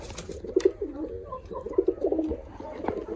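Pakistani pigeons coo close by in a loft setup in soft, throaty bursts, several rounded calls repeating in short clusters against a quiet background.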